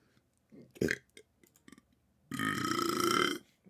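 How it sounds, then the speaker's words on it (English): A couple of short throaty sounds, then a long, loud, drawn-out belch close to the microphone, alone in a quiet room. "as I belch into the microphone"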